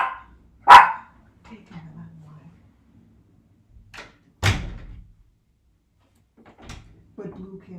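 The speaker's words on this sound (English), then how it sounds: "Oh, yeah, the dogs" Dogs barking indoors, two sharp loud barks a few seconds apart, with quieter scattered yips and whines in between, and a person talking softly in the pauses.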